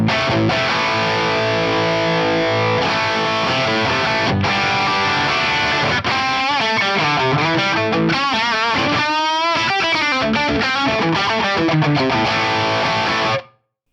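Electric guitar played through an amp model with a mid-range boost and turned-up gain gives a distorted, sustained tone, with strummed chords giving way to ringing, bending notes that fill the whole stretch before cutting off at the end.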